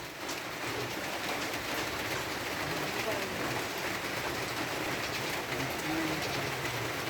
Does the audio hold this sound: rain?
yes